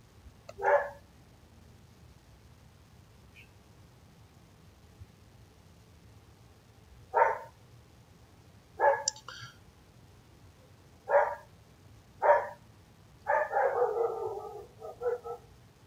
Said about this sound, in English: let the dogs in the background quiet down